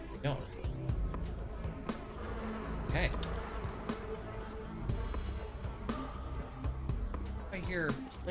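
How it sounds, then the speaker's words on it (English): Buzzing plague clouds in Pathologic, a dense insect-like drone hanging steadily in the background throughout while someone talks over it and footsteps and game noises come and go. "If I hear plague clouds buzzing"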